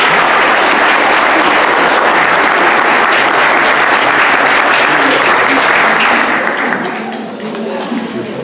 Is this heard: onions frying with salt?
no